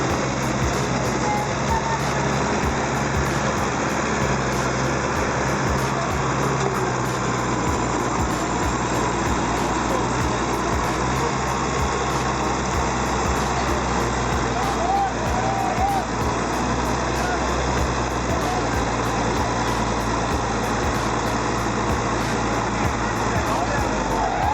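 A Fendt tractor engine drones loud and steady while it drags a stuck Zetter tractor through mud on a chain, the heavy diesel rumble continuous throughout with talk over it.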